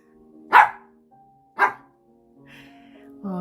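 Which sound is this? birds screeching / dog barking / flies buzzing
dog barking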